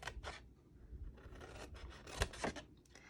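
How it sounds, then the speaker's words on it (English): Scissors cutting along the score lines of a cardstock treat box, giving short faint snips and rasping slides with a sharper snip near the end, close up with no voices. "Cut all the score lines up to the horizontal score line."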